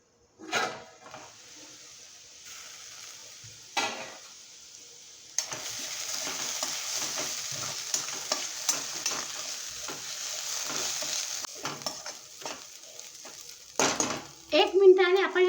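Chana dal frying in a pan, a continuous close sizzle with repeated scraping stirs and occasional clanks of a spoon or plate on the pan, while someone speaks over it at times.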